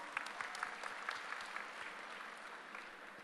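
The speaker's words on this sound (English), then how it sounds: "Please give him a huge round of applause." A seated audience at a technical session gives a round of applause, with dense clapping from many people and a few sharper, nearer claps standing out as it gradually thins.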